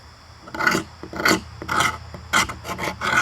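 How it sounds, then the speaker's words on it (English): Fatwood scraped with a blade to raise dust and shavings: five or six close, rasping strokes of varying length, dry and gritty, with no talk. "and you scrape some dust off, like that, or shaving"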